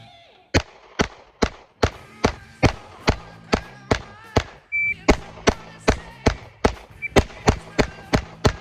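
A pistol fires repeated rounds at a target in quick bursts of sharp, loud shots, about twenty in all, grouped in fast strings with brief pauses between them.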